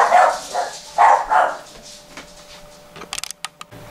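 Several dogs bark loudly and close after a knock at the door, a cluster of sharp barks in the first two seconds, followed by a few quick clicks and taps.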